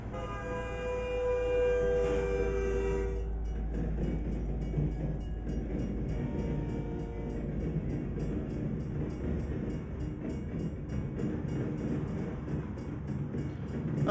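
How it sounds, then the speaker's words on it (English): A train at a level crossing in American Truck Simulator opens with a loud horn blast, then its wagons roll past in a steady, close clatter and rumble for the rest of the clip, with no talking. "Alright, gonna have to wait on a train here."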